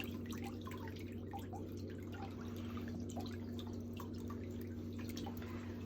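Water drips and trickles softly from a foot lifted out of a pedicure soak basin during ingrown and impacted toenail care, scattered small drops over a steady low background hum, with no talking.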